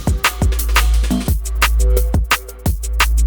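Drum and bass synth bass pitched down an octave, a deep sustained low tone under a steady, punchy drum pattern of repeated hits.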